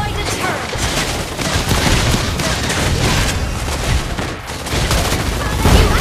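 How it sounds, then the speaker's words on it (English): A turret being destroyed in the Mobile Legends mobile game: a dense, loud wash of battle noise with crackling impacts and booms running throughout, with an announcer voice over it. "Your team destroyed the turret!"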